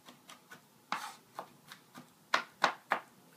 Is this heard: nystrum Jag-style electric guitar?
no